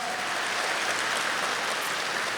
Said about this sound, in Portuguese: Pode dar uma salva de palmas, forte.